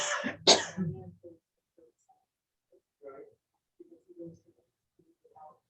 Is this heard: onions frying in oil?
no